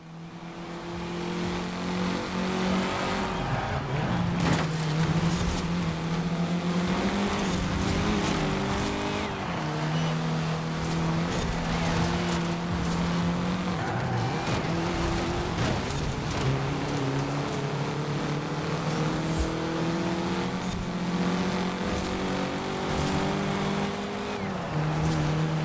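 A slow Mini car is driven in Forza Horizon 4, its engine whining and shifting pitch through repeated gear changes, a continuous moderate drone with faint road and tire noise.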